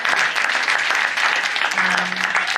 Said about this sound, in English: Give it a round of applause if you're ready.